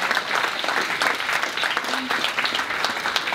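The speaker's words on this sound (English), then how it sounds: "a round of applause please for asframe.com" A room of people applauds a cancer charity sponsor, many hands clapping steadily at moderate volume, with a faint murmur of voices under the sustained clatter.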